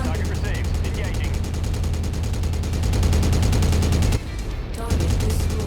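Rapid, continuous machine-gun fire from a mech in MechWarrior chatters in an even stream for several seconds, briefly breaking off before resuming, loud and close, with voices talking over it.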